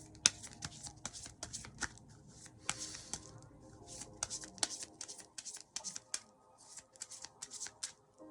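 Oracle cards being shuffled by hand, a quiet run of crisp riffling bursts and soft slaps repeating irregularly, close and alone without talk.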